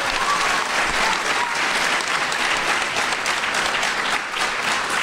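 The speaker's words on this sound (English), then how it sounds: "can we get a round of applause for our awesome" A convention panel audience at RTX 2017 applauds steadily, a loud, close, thick wash of clapping that holds at full strength through the entire stretch.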